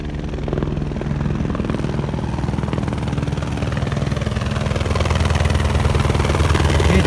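A helicopter approaching Alpe Mott Claro in the mountains, its rotor chop and engine drone loud and steady and slowly growing stronger as it draws closer.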